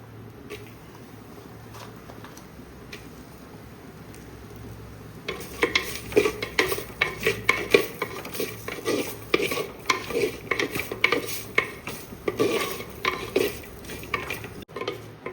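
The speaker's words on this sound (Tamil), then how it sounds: "முள்ளங்கியை வதக்கி எடுத்துக்கணும் எண்ணெய் இல்லாமல்" Radish being dry-sautéed without oil in a hot pan for a dried-fish curry: quiet at first, then from about five seconds a steady run of sharp spatula scrapes and clinks with a faint sizzle, close by.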